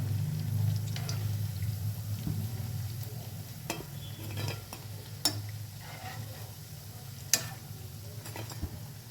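Black-eyed pea fritters (bobbara garelu) deep-fry in oil with a soft, continuous bubbling and a low hum. Occasional sharp clicks and pops cut through, and no one talks.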